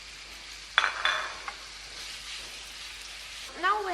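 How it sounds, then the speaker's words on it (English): Chicken pieces dropped into hot olive oil in a pan, a sharp sizzle bursting in around the one-second mark with clinks and clatter, then a steady low frying hiss; faint voice near the end. "now the oil is heated and we are putting the meat in"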